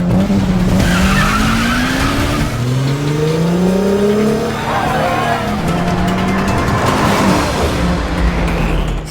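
Acura RSX tires skidding and squealing during a street race, long loud screeching tones that rise and fall over a roaring engine for several seconds.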